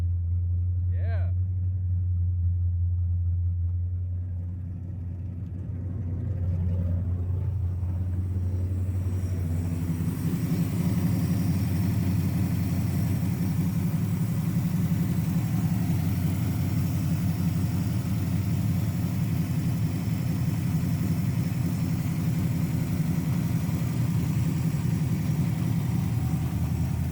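An S13 drift car fitted with a 5.0 engine starts and settles into a steady, loud idle rumble that continues up close, with people talking and cheering over it.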